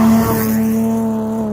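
Steady, loud exhaust drone from a car running a straight-through exhaust with headers and no mufflers, a low booming tone held evenly throughout with no voices.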